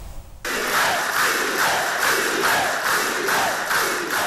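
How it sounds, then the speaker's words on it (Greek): Members of the Communist Party of Cuba rise in a standing ovation for Fidel Castro, a large crowd's loud, prolonged applause and cheering swelling in steady rhythmic waves after an abrupt start. "Όρθιοι και με παρατεταμένα χειροκροτήματα, τα μέλη του Κομμουνιστικού Κόμματος της Κούβας αποθεώνουν το Φιντέλ Κάστρο"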